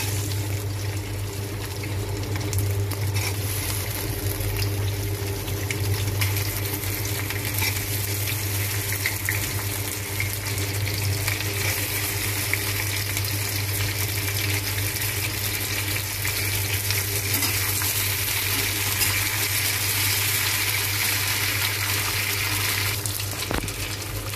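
Green chillies fry in hot oil in a kadai while an Odia thali is being made: a steady, close, bubbling sizzle that carries on unbroken throughout, with no talking.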